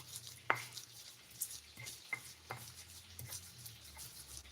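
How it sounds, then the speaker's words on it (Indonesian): Fish fries in a pan with a soft, steady sizzle, broken by occasional clinks and scrapes of a utensil against the pan, fairly quiet and close. "Lagi sementara goreng ikan ya"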